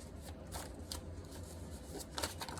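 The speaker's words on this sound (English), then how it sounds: "I'm gonna see what comes out when I shuffle." A deck of cards being shuffled, with quiet crisp riffling bursts repeating several times, close and faint, without any talking.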